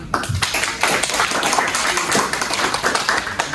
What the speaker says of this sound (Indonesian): Wih, tepuk tangan teman-teman.